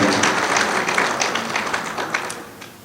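An audience applauds at a review meeting on the 2023 Nigerian elections. The clapping is steady and broad and fades toward the end, with no voices over it.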